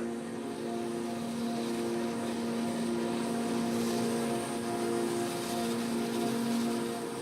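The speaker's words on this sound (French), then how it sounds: "2 avions s'apprêtent à décoller pour livrer les armes promises au président Siles Zuazo" Propeller airplanes at Cayenne airfield drone steadily as they prepare to take off, a continuous, moderately loud engine hum with no talk.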